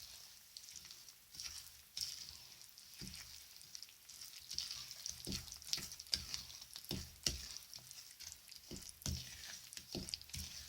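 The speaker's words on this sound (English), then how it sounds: "I'm just going to quickly give it a stir. Give it a really good mix." A spoon stirs melting butter and chocolate in a bowl for microwave Baileys fudge, giving soft, faint scraping and gloopy sticky sounds in irregular strokes, with no one talking.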